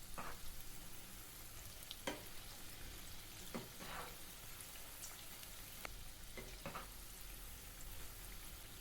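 Jaggery-sweetened wheat-flour fritters (gulgule) fry in oil over low-to-medium heat, giving a soft, steady sizzle with occasional sharp pops and light clinks throughout, and no talking.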